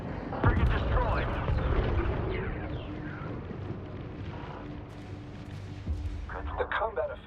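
Space battle in Homeworld 3 with ship explosions and heavy cannon fire, booming blasts and rumbling bursts layered over a continuous roar, while a voice speaks over the combat.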